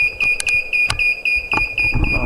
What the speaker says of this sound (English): Sorry about the beeping, by the way.